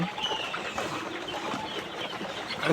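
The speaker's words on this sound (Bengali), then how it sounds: "কি সুন্দর মুরগিরা সব খাবার খাচ্ছে" Broiler chickens feeding on a poultry farm in Bangladesh: a dense, continuous bed of soft clucks and chirps from many birds at once, moderately near, with no talking.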